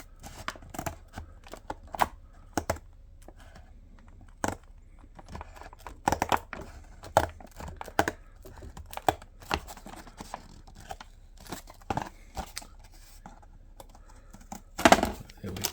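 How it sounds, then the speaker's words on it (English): Scissors snipping through thin cardboard packaging along a dotted line, a run of sharp, irregular cuts and crisp crackles close by, with occasional rustling of the card between strokes. "cut along the dotted line"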